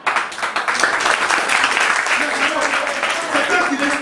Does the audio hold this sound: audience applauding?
yes